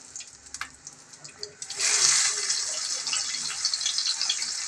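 Onions tipped into a hot pan holding fried chicken keema balls set off a sudden loud sizzle that keeps crackling steadily after a quiet start with light clinks.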